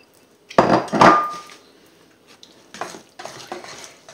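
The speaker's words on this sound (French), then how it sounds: "Et on remue" Salmon pieces stirred in a pan, a few wooden scraping and clattering strokes, close and fairly loud, with short pauses between them and no talking.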